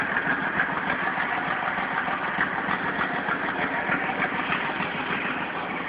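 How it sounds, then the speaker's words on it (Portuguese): A Mercedes-Benz 1113 truck engine, fitted with a turbo and a straight exhaust, runs with a loud, steady rumble close by, holding a constant idle rather than rising and falling in revs. "Peixe na turbina agora no escapamento direto, hein?"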